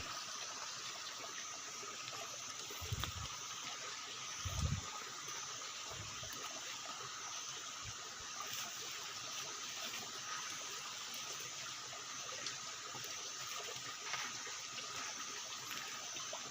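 A forest waterfall pours in a steady, broadband rush that stays even throughout, with a few faint low thumps near the start and no voices.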